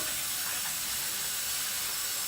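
Water runs steadily from a tap while a blender is rinsed in a kitchen, a loud continuous hiss with no talking.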